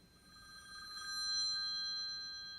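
A phone ringtone plays as a steady electronic ringing tone that swells slightly and then holds, fairly soft and alone, with no talking.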